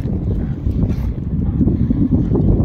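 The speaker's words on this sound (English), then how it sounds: "it's kind of windy out here" Steady low-pitched wind buffeting the microphone, a continuous loud rumble with gusts rising and falling throughout, no voices.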